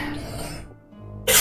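After a brief quiet pause, one abrupt, loud sneeze erupts close by at the end, bright and explosive.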